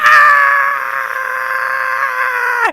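A person lets out a single sustained, loud, strained scream imitating Eric Andre's Time to Scream bit, held for almost three seconds before cutting off abruptly.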